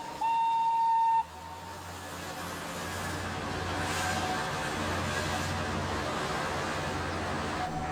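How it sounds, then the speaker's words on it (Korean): A Meiji-era train running through a city center: a loud whistle tone blasts for about a second at the start, then a steady rolling rumble of the moving train carries on evenly to the end. "메이지 시대에 운행하던 열차도 다니기 시작했다."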